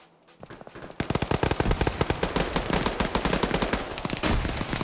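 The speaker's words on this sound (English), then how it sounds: "they're firing it closer now" Rapid, dense bursts of automatic gunfire ring out in a large multiplayer PvP match in a military video game, loud and continuous after a brief quiet start, with no talk.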